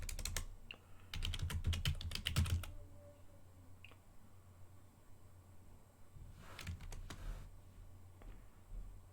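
Computer keyboard typing in bursts of rapid clicks, heaviest in the first few seconds, then a second short burst later, close and moderately loud over a low steady hum, with no talking.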